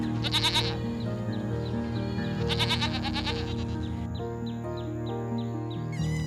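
Sheep bleating in a farm animal sound sequence, two loud wavering bleats near the start and middle over a busy background with bird-like chirps.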